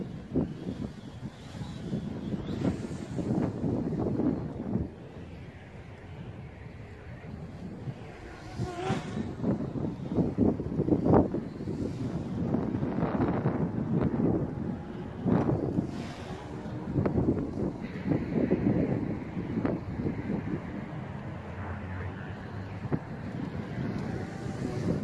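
Wind buffeting a JJRC X1 quadcopter flying on 6045 three-bladed props, a continuous gusting roar mixed with motor whine, steady and close throughout.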